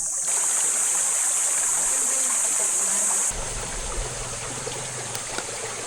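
Clear water of the Mayton River flowing over sand and rocks, a steady close rushing and trickling wash that shifts slightly partway through, with no voices.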